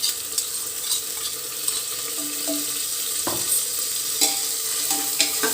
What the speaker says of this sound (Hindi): इसको भी थोड़ा सा भून लूँ।